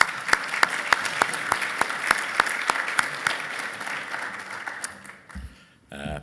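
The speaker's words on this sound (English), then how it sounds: "So give yourselves a round of applause." A conference audience at the sold-out first AICon Canada event claps, sharp regular claps standing out over a dense ongoing patter that fades away near the end.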